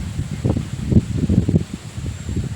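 Wind blowing through leaves over green fields, a steady low rustling that swells and eases in gusts, close to the microphone with no talking.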